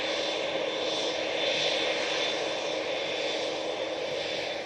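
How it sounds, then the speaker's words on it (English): An EasyJet airliner departing Manchester for Dalaman gives a steady, moderately distant engine roar with a hissing, whining edge that holds even for a few seconds. "A380neo going off to Dalaman"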